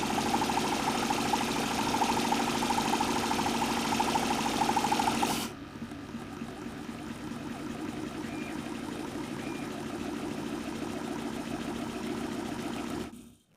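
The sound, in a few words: homemade Stirling engine running at high RPM on a bicycle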